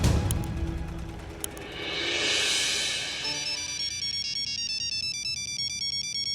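A phone ringtone starts up and repeats a bright, steady electronic melody, loud and close, with no talking over it.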